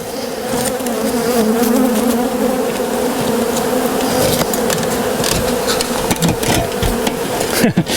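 Dense, steady buzzing of many honeybees during removal of a hive nest from inside a building structure, loud and continuous throughout with a few brief knocks near the end.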